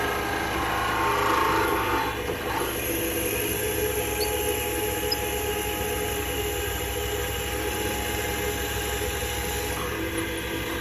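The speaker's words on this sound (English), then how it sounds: "And then back to the 7mm drill bit. I just want to clean that out the other way." A 7mm drill bit boring through a pen blank, heard as a steady, continuous machine drone with a constant hum, close and unbroken throughout, with no talk.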